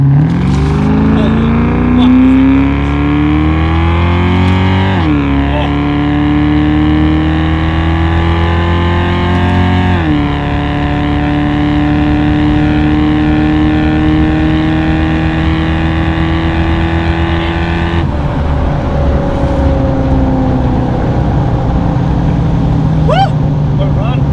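Car launching hard from a standstill, engine pitch climbing steadily through several gears with distinct shift drops, loud and close, while occasional voices sound over it.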